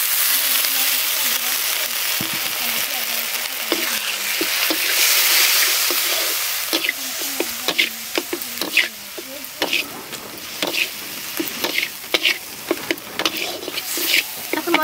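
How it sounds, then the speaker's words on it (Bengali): Spice paste of dried chilli paste, turmeric, salt and Kashmiri chilli powder sizzles in a pan with a little water while being stirred, a steady frying hiss broken by scraping spoon clicks. "এখন মশলাটাকে ভালো করে কষিয়ে নেব।"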